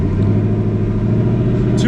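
Ford Mustang GT with its resonator deleted, engine running loud and close with a deep steady rumble, a voice speaking briefly over it.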